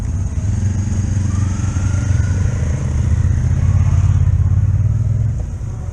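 Motorcycles rumble and rev amid thousands of bikes and trikes at the 2021 CopDock Motorcycle Show, a loud, close, steady engine drone that swells briefly with revving, with no voices.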